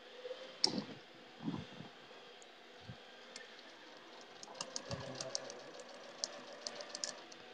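A sewing machine stitches quilt block seams, a faint soft run of rapid clicking and mechanical chatter with a few thumps, quiet and close, no talking.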